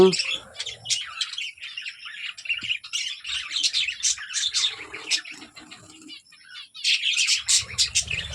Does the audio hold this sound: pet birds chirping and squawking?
yes